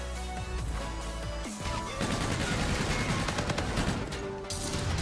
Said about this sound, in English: I got two kills with the assault rifle